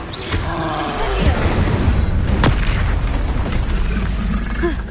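A fiery Incendio spell cast in Hogwarts Legacy: a dense, roaring burst with a sharp crack partway through, loud and sustained over rumbling game sound throughout.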